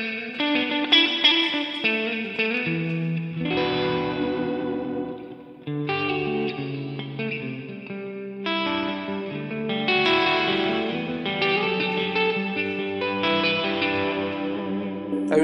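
Single-coil electric guitar played through the Neural DSP Archetype Tom Morello plugin, a lightly driven, chorused and echoing tone of sustained chords and melodic lines, loud and alone for about fifteen seconds.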